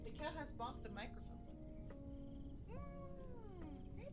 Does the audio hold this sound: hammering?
no